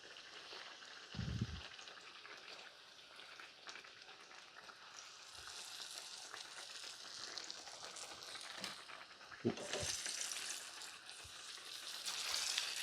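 Eggplant slices frying in hot oil for eggplant rollatini, a faint, steady sizzle and crackle with a few soft knocks of a utensil against the pan.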